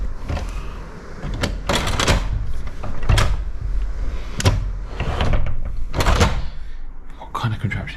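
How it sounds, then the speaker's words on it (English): A door is opened and worked with some effort, giving several loud clunks and rattles at irregular intervals over a low background. "how do you work this door?"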